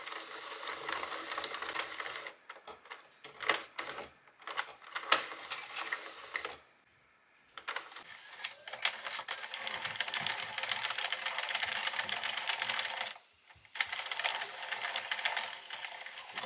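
A Sentro knitting machine is hand-cranked while knitting a sweater, a near, continuous clattering ratchet of needles and gears in long runs broken by two brief pauses, with no talking.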